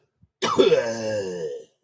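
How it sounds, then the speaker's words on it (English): One drawn-out, throaty cough with a rasping, voiced tail, close and loud in otherwise quiet surroundings of a baseball radio broadcast. "that wasn't a groan. That was a cough."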